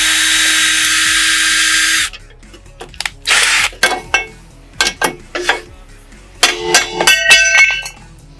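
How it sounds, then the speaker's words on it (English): A power drill bores out a rivet on a wrecked Chevy Corvette C7 Stingray, a loud steady whine for about two seconds, then short bursts of drilling, metal clinks and tool clatter, close up with no talk. "So my plan now is to just drill out this rivet so I can free this one up"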